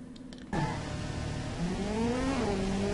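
A car engine in the game Automation roars in suddenly and revs high toward 9,000 RPM, its whine rising steadily through a shift; loud and sustained with no speech.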